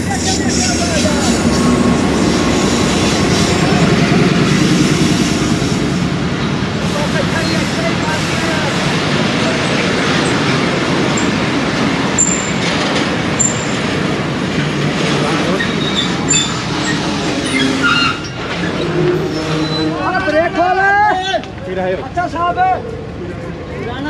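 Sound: Allama Iqbal Express train arriving, led by Blue Tiger locomotive

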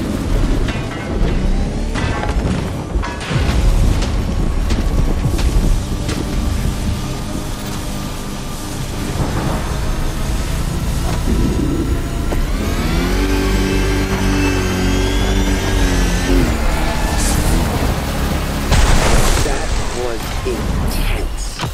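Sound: 250 kilowatt car engines revving, video game The Crew Motorfest

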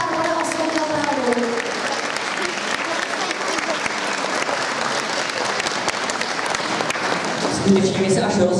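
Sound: applause for Saint Barbara

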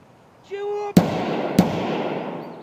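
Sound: gunshots in the video game Escape From Tarkov

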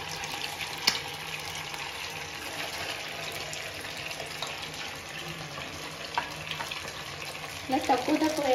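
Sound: palamunjulu frying in hot oil

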